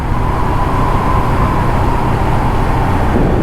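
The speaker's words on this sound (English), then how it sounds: "Just that lovely lazy burble noise." Original stock exhausts on a 2013 Suzuki C1500T Intruder V-twin cruiser giving a steady, lazy low burble, continuous and fairly loud with a constant rumble throughout.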